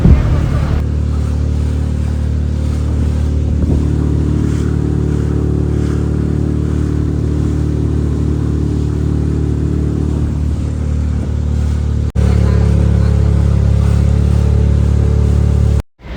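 Motorboat engine on a Kerala backwater ride from Poovar island toward Azhimala, a loud steady droning hum held close for the whole stretch, with a brief shift partway through and a sudden cutoff at the end.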